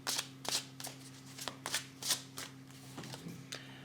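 Tarot cards handled on a table, one laid down to cover another, making a string of quick, soft papery snaps and slides close by under a faint steady hum, with no talk.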